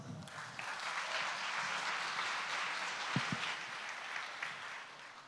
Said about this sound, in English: And so let's give her a round of applause.